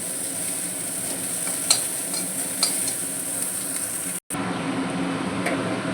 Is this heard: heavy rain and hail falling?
no